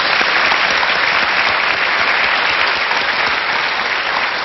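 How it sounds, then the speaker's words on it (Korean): A studio audience at a Korean lecture show claps loudly and continuously, dense applause holding at full strength from start to end with no voices standing out. "네, 박수 한번 주세요."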